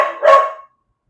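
A single short bark from a dog, loud and close, cutting off abruptly into silence.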